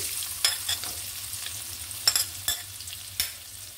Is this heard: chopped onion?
yes